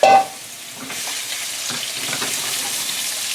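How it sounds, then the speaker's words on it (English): Diced boneless pork loin sizzles steadily in a hot wok, a brief louder burst at the start settling into a continuous close frying hiss with faint crackles throughout. "Let's get the pork cooked first. Okay. Have it in my wok."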